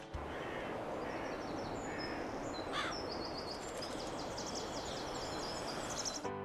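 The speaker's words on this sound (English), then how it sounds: "Lush Ambience is also an amazing mod that adds sounds like birds chirping, leaves rustling in the wind, and owls hooting at night." Ambient birdsong from the Fallout 4 Lush Ambience mod, a video game soundscape: scattered high chirps and calls, including a crow-like caw, repeat over a steady, dense background hiss throughout.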